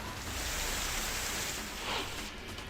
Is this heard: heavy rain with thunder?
yes